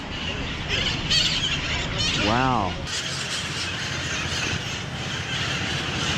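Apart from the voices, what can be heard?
birds chirping loudly in a San Francisco park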